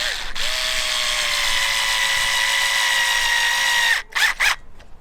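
A power drill whirs steadily for about four seconds while screwing down 16mm garden railway track outdoors, followed by two short bursts as the screw is tightened.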